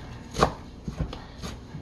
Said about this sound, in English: You can get a bunch of parsley and you're just going to finely chop it.